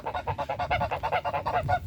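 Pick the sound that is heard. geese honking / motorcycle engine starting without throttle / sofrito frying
geese honking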